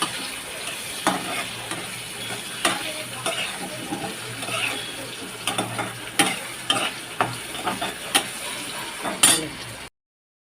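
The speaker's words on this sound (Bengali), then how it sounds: "ভালো করে লাল লাল করে একটু ভেজে নিই।" Spices frying in a pan until reddish, a steady close sizzle with repeated spatula scrapes and clinks against the pan at irregular beats, ending abruptly in silence, no voices.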